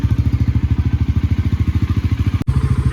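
A Bajaj Pulsar NS400 motorcycle idles close by while warming up, its engine thumping in a fast, even, loud pulse with one brief dropout near the end.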